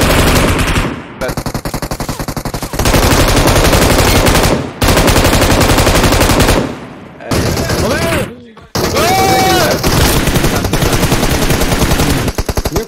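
Rapid automatic gunfire in an online shooter game battle, loud, dense bursts in several long strings broken by brief pauses, close and continuous.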